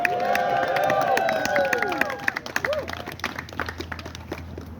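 Audience applause and some cheering at a comedy show in Grand Rapids as the next comedian takes the stage, a dense crowd clatter running throughout with tonal sounds layered over the first half.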